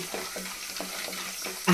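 Mustard seeds sizzle and crackle in hot oil for a chitranna tempering, a steady soft frying hiss with a louder burst near the end.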